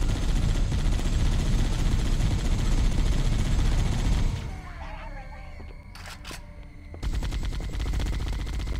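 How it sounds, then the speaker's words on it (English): Chain gun fire in Halo: Combat Evolved on Legendary, a loud, dense stream of rapid shots for about four seconds that cuts off briefly and then resumes. "the chain gun on this game is absolutely cracked"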